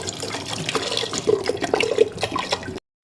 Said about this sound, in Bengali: একটা কুকারের মধ্যে ডালগুলো দিয়ে দিলাম পরিমাণ মতো জল।